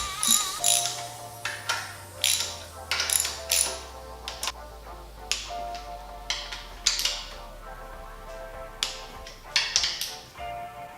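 Bolts tightened on a Toyota Supra build: a series of quick metallic ratchet clicks and taps in short bursts, close up and fairly loud, with a low hum running underneath.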